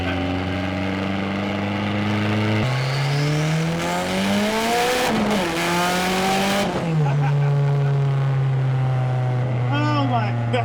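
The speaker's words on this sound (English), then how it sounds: "That's rolling anti-lag, and that's line lock." A street race car, a turbocharged S13 240SX, revs hard with rolling anti-lag and line lock, its loud engine tone rising and falling in steps over about ten seconds, with crackling pops and tire noise, up close.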